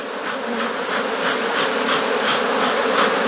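An Africanized honey bee colony hums in a dense, continuous buzz during hive work, loud and close, swelling slightly in pulses with no voices.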